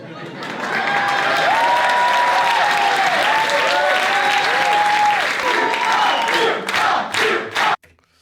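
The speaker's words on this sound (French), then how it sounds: "Quand là, ils m'applaudissent et qu'après, tu vois, ils scandent mon nom" Stage audience applauding a performer, loud sustained clapping from a large crowd with cheers and whoops over it, building quickly, then fading in scattered claps before cutting to silence.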